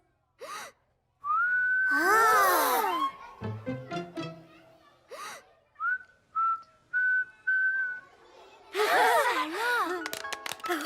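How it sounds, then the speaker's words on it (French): Short whistled notes come in a series of brief phrases, some gliding and some held steady, separated by breathy huffs and quiet gaps. "Tu as appris à siffler."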